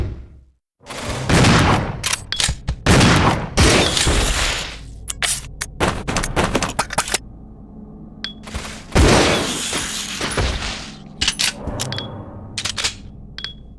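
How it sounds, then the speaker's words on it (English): Rebecca firing a handgun in Resident Evil Zero HD Remaster, loud sharp single shots with ringing tails, spaced irregularly between quieter menu clicks and thuds. "So I'm going to fire away with Rebecca, and then once I've done my 2 shots, go into the menu"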